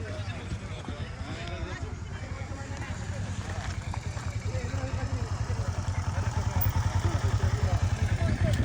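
A group of motorcycles rides along together, their engines droning in a steady rumble that grows slightly louder toward the end.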